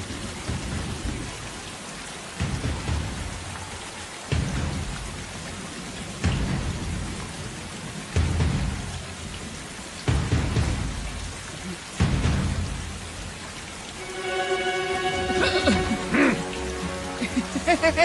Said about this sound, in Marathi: पाऊस किती आहे